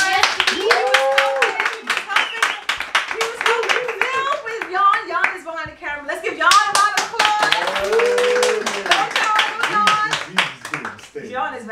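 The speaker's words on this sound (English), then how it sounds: "Let's give Steve a round of applause" A small group claps for Steve in a casual gathering, crisp close handclaps in quick succession mixed with lively talking and laughter over most of the stretch.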